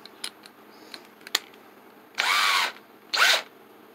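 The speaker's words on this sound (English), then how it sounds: "Now this is a rail bolt driver." A rail bolt driver run as a power tool in a rustic stump chair workshop, heard in two loud, sustained bursts of whirring motor noise after a few faint clicks and knocks.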